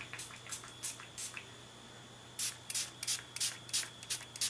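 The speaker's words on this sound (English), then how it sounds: "And I am just going to spritz this." A spray bottle filled with water spritzes onto Brusho watercolor paint, giving a few quick hissing bursts, then a more rapid run of about six close, sharp sprays.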